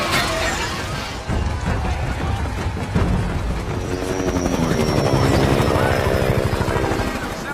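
A helicopter drones steadily with a pulsing rotor chop, loud and continuous, over a rumbling low-end mix, in a Vietnam War film.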